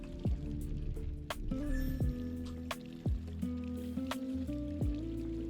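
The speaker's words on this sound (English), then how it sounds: "I can hear water." Water drips steadily in an underground area of the video game Scrap Mechanic, with a run of clear plinking drops over a continuous trickling, liquid bed and layered game tones.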